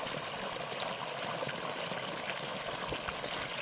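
Solar-powered farm borewell drawing water from about 500 feet, a steady, even rush of gushing water that runs without a break and with no talking.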